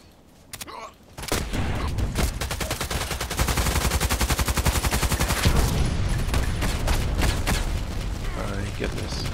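Rapid automatic fire from a SCAR-L rifle in a shooter game, with dense bursts of loud, close shots running almost without a break over several seconds after a brief quiet start.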